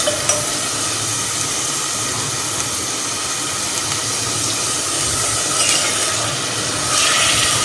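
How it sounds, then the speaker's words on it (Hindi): Bitter gourd (karela) with onion frying in a pan, a steady dense sizzle that runs the whole time with slight swells near the end and no talk. "इस तरह इसको अच्छी तरह फ्राई करेंगे।"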